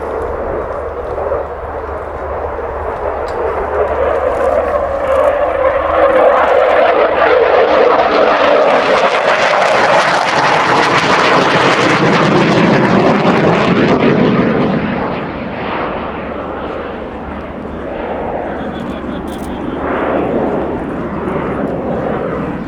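Royal Air Force Eurofighter Typhoon FGR.4 jet roaring through a display at an air show, swelling loud as it passes overhead and then fading into a distant rumble.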